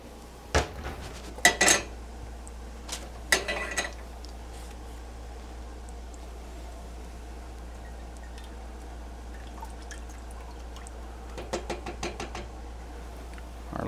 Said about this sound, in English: just me digging for a pot